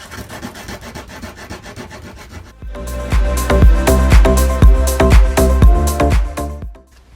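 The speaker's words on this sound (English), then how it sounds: "I'm just going to sand some of this glitter off." Sandpaper rubs glitter off a wooden Easter decoration in steady back-and-forth strokes, softer at first and then louder and more forceful for several seconds before stopping.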